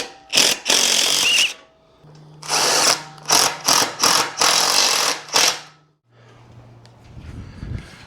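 A power drill drives lag bolts into a carpeted trailer bunk in several loud, close bursts of whirring, separated by short pauses, then a lower hum at the end.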